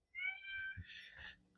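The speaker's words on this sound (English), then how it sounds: "one of our farm cats, right there meowing away, telling me all about his day" Kiwi, a farm cat on a porch, gives a long drawn-out meow followed by a second rising meow, close and clear against a quiet background.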